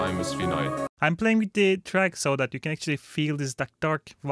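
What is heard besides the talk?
None of the usual background noises is heard.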